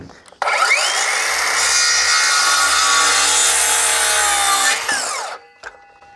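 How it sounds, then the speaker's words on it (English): A hand saw cuts through a timber joist for a garden room, with a loud sustained rasping stroke lasting several seconds before stopping abruptly, followed by a brief clatter. "I'll just cut that off"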